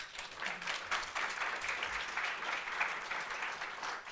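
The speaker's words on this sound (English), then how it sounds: "Applause for her." An audience applauds steadily for several seconds after a talk by an IT project manager, a dense patter of many hands clapping that holds an even level throughout.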